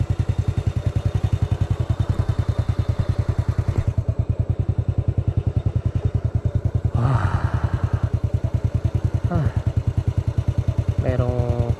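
A motorcycle engine chugs at idle on a mountain road with a steady, rapid throb, close and loud, with a few rattles and thumps as it moves.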